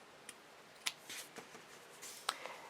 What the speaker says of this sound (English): we will need to trim a little bit of the excess off